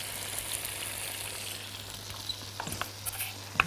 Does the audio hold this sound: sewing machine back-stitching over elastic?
no